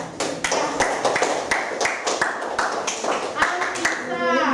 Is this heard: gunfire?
no